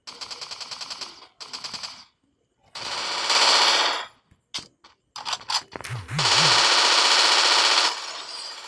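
A P90 submachine gun fires in Free Fire MAX, with rapid automatic bursts in several loud volleys separated by short pauses, plus a few single clicks and handling sounds.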